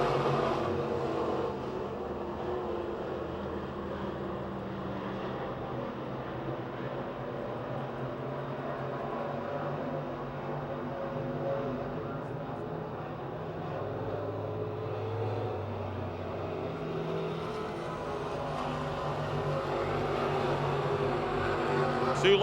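Sprint cars race around Pennsylvania Motor Speedway, a dirt oval near Pittsburgh, their engines a steady, continuous roar from the pack that rises slightly toward the end, with a faint crowd wash underneath.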